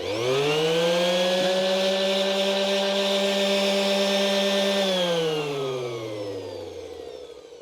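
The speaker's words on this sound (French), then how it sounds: "il faut spécifiquement une ponceuse excentrique" Steady high-pitched electric motor whine from a random orbital sander, running evenly for several seconds, then spinning down as it is switched off.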